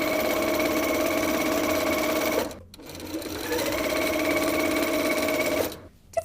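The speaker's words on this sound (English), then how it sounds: "we're gonna sew all of these together" Strips of bias binding for a picnic bag are sewn together on a sewing machine, which hums loudly in two long close bursts separated by a short pause, with no voices.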